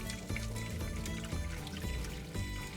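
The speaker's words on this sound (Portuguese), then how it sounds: "Vou adicionar a água de cozer o bacalhau." Codfish cooking water is poured into a cooking pot for bacalhau with broa and couve, a continuous close splashing and gurgling pour at moderate volume with no talk.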